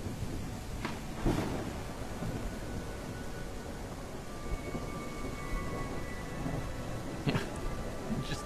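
Thunderstorm in the video game The Isle Evrima: steady rain hiss with a couple of sharp thunder cracks near the start and again later, continuous and moderately loud, with no talking.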